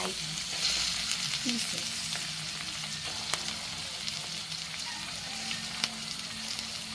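Bite-sized chicken breast pieces fry in a pan for chop suey, giving a steady broadband sizzle with occasional stirring clicks and a brief spoken word over the frying.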